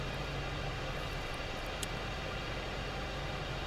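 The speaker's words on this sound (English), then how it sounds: "We cut the afterburners, trim the aircraft for a gentle climb." An F-4 Phantom jet in a gentle climb after the afterburners are cut, a loud, steady, broadband engine roar filling the cockpit with no variation across the short stretch.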